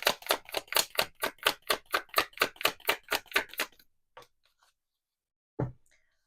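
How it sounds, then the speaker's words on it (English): Tarot cards being shuffled, a fast run of about fifteen crisp, evenly spaced riffling snaps up close, then near silence with a few faint ticks and one soft thud. "These are hard to shuffle."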